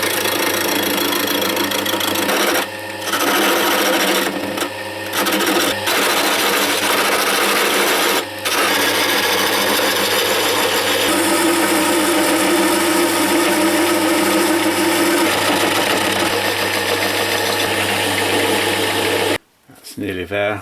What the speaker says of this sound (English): I'm resorting to this lathe which I haven't used in ages.